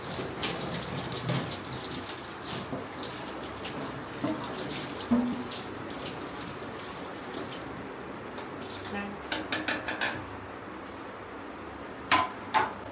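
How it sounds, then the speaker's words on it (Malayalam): Tap water runs steadily into a sink while a chopping board is rinsed under it, with occasional clatters and drips; no speech. "ഈ ചോപ്പിംഗ് ബോർഡ് വൃത്തിയാക്കി എടുക്കുക"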